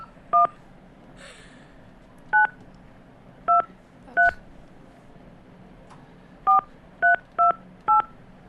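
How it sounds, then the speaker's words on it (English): Telephone keypad dialing extensions in a high school radio studio: eight short, clear DTMF tones in irregular rhythm, a few spaced apart then a quick run of four, over a faint background hum. "We're dialing extensions."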